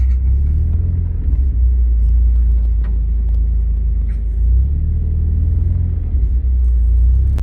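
A BMW car drives with a loud, continuous low road rumble from inside the cabin, its engine note swelling slightly now and then with no voices.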